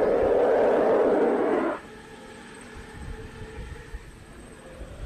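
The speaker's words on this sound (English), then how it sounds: "All those venting noises, that sounds amazing." Starship SN11 rocket venting during a static fire test, a loud broadband roaring hiss for under two seconds that abruptly cuts off, leaving a quieter low rumble behind.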